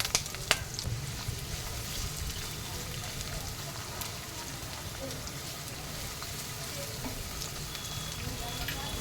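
Chopped onions frying in hot oil with curry leaves in a pan, a steady dense sizzle that runs unbroken throughout, close and fairly loud, with no talk over it.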